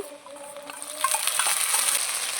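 Onion, ginger, garlic, cumin and chili fry in a pan for a Bengali fish curry, with a close hiss of oil that swells into a busier, louder sizzle partway through as the spices are stirred.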